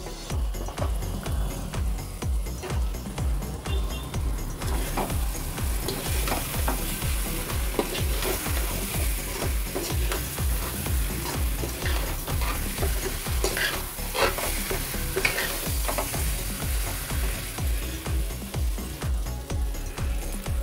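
Brinjal pieces fry in oily masala gravy for a spicy eggplant curry. A spoon stirs steadily with loud, continuous sizzling and rhythmic scraping strokes, and no one speaks.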